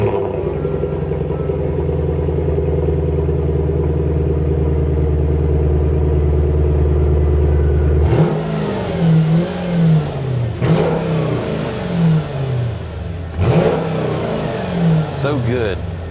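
A Mercedes-AMG SLK55 V8 settles into a loud, steady high idle after a cold start, then breaks into three sharp revving blips that climb and fall at close range.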